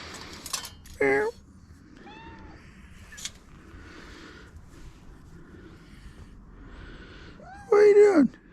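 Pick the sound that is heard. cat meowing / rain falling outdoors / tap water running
cat meowing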